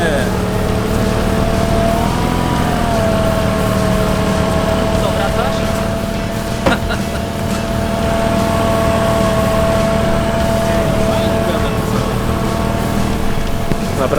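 A Polonez Truck pickup engine runs loudly and continuously close by, with a steady droning idle, a whining tone and slight rises in pitch as it revs, accompanied by wind noise on the microphone.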